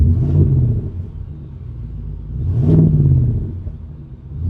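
A 2025 Ford F-150 Raptor R engine idles with a deep, steady rumble, then swells into a rev and falls back down to idle, heard close and loud with no talking.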